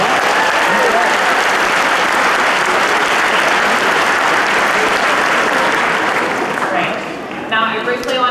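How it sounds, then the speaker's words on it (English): Loud, sustained applause from a large crowd at a naturalization ceremony in Oakland, California, dense and continuous before tapering off, with voices surfacing near the end. "let's just give them a round of applause for all their work"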